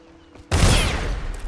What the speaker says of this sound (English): That's a good explosion.